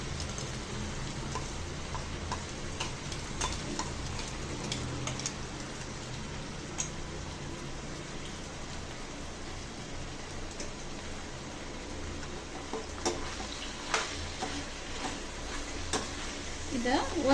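Chicken with freshly ground masala fries dry over a low flame for garlic chicken dry, a steady soft sizzle with scattered crackles and stirring ticks throughout.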